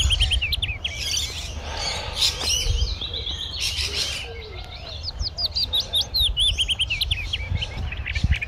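Small birds chirp and trill in repeated bright phrases at Sandstone Lake, loud and close, with quick bursts of song running through most of the outdoor scene.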